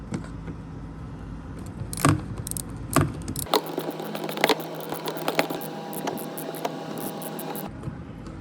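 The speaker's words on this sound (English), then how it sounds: "I'm using a 7mm nut setter with a socket wrench." A socket wrench fitted with a 7mm nut setter works screws loose during Ford Edge front bumper removal, giving sharp metallic clicks and ratcheting bursts at close range, irregular and spaced apart.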